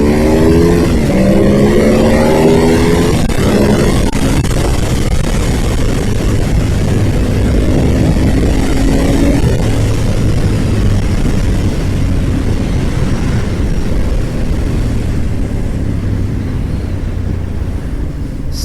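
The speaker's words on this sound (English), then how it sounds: "I mean, this is 2011 and this bike still runs." A 2011 Ducati motorcycle engine runs continuously and loudly, a deep droning rumble with shifting tones and some wind buffeting on the microphone, without any talking.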